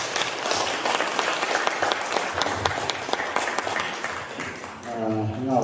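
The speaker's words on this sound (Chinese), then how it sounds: "我们热烈的掌声" A crowd applauds warmly at a gathering honouring an Atayal elder, dense clapping that carries on steadily for several seconds, with voices mixed in and a sung or chanted tone rising near the end.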